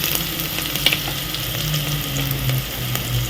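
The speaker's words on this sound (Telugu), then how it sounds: "ఇలా ఆనియన్స్ ఫ్రై అయ్యేలాగా ఇలా ఫ్రై చేసుకున్న తర్వాత" Onions fry in a pressure cooker pan for chicken curry, giving a steady, close sizzle with light crackles and a few stirring scrapes, no talking over it.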